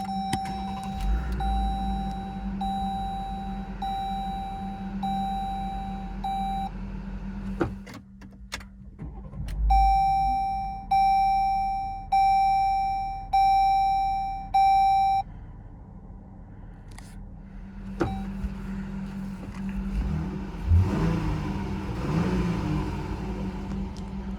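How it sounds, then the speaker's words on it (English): A chime sounds repeatedly, then the engine of a 2022 Jeep Grand Cherokee L Altitude 4X4 cranks and starts via push button, revs briefly, and settles into a steady idle hum. "Locate the engine start button here in the dash and just press it to start the engine."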